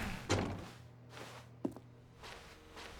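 A door opens in The Stanley Parable, with a solid thunk followed by soft footsteps and another knock, close and moderately loud over quiet room tone.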